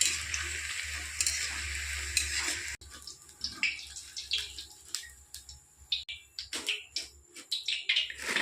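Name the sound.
jackfruit pieces frying in hot oil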